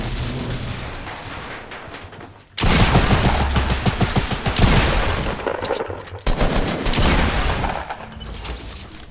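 Heavy bursts of rapid gunfire from a Fortnite match, loud and dense, running almost continuously with a short lull before each renewed volley; no voices.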